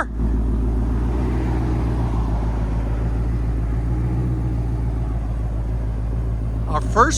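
2024 Ford Mustang Dark Horse with its 5.0L V8 and X-pipe exhaust idling, a deep steady burbling rumble held close and loud, with a brief voice near the end.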